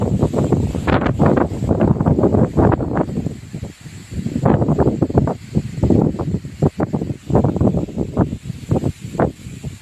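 Dry wind gusting outdoors, buffeting the microphone in repeated loud, rumbling surges with brief lulls between them, steady for the whole stretch.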